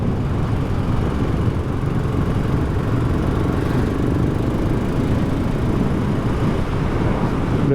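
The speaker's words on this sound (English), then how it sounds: "what absolutely redeems this bike, apart from the looks, is just the shove of that engine in the mid-range" A BSA Goldstar motorcycle engine runs steadily throughout, a continuous dense low rumble close by, with no talking.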